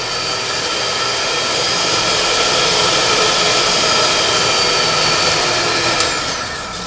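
Oberly electric hand mixer whirring steadily at high speed, a loud continuous motor drone with a bright whine that holds constant throughout, with no talking.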